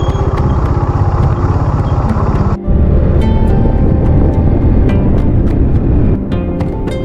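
A motorcycle engine chugs loud and close on a rough, steep mountain road toward Anahawon Ridge, with a brief cut in the noise and wind buffeting throughout.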